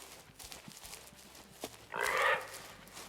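A short, harsh pig squeal in the hunting video game Way of the Hunter bursts out once amid quiet ambient noise and faint rustling, fairly close and loud.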